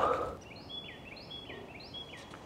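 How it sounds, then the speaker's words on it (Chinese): A bird sings a series of clear, whistled notes that repeat in short phrases over a quiet outdoor background, after a brief rustle at the start. "特别好听的鸟叫声"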